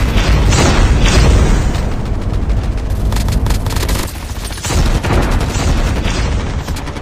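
Dense gunfire and booming explosions from a shooter video game fill the whole stretch loudly, with rapid bursts and heavy blasts crowding together and no talk over them.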